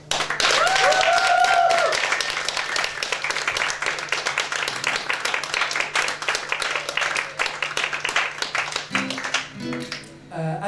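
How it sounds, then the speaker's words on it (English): A concert audience in Sopron applauds the evening's singers, with sustained, fairly close clapping that tapers off toward the end while a few voices and brief instrument tones emerge. "a round of applause for all of the acts who've sung tonight"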